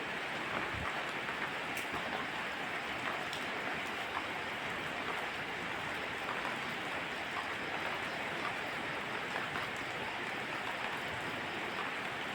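Steady rain falls continuously, a dense even hiss that stays constant throughout with no voices.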